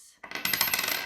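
Coins tossed for an I Ching reading, a quick burst of bright metallic clinks and jingles as several coins land together and rattle briefly, close and clear.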